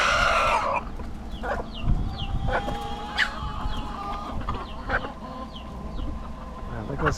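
A flock of chickens and roosters in the Keys clucks in scattered bursts close by outdoors, with a louder call at the start and a person talking now and then.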